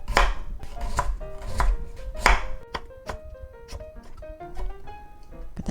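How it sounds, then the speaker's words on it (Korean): A kitchen knife cuts carrot and chayote into thin strips on a cutting board, a rapid, steady series of close, crisp chopping thuds, with faint melodic tones in the background. "이제 들어갈 야채를 썰어 보겠습니다"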